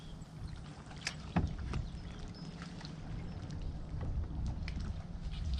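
Small fishing boat turning on a windy lake in winter, with a steady low rumble of motor and water washing against the hull, a couple of sharper knocks, nearby and continuous with no talk.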